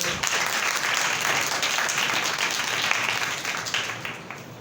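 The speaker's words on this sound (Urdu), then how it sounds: "تالیاں بجائے اپنے لیے" Church congregation clapping steadily throughout, a dense, sustained wash of applause at moderate level with no voices over it, tapering slightly at the end.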